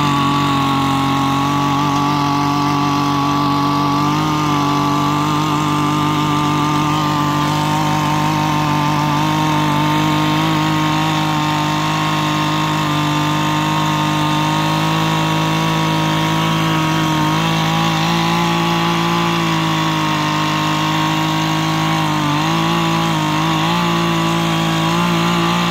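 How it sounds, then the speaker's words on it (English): A small Mantis garden tiller runs steadily between garden rows, its buzzing two-stroke engine droning loud and close for the whole stretch with slight shifts in pitch as it works the dirt. "Run this little mantis tiller here in between the rows to soften up the dirt"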